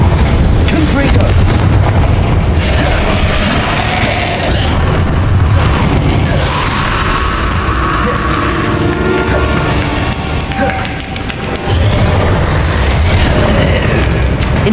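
Repeated Confringo blasting-spell explosions in the Hogwarts Legacy video game: loud, dense booms and bursts overlapping throughout amid continuous combat noise, with voices talking over the action.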